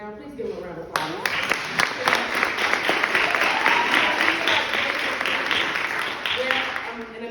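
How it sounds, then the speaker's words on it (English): An audience breaks into a sustained round of applause for James McKenzie, loud and dense clapping that swells after a quiet opening second and continues steadily before tapering slightly near the end. "Now, please give him a round of applause."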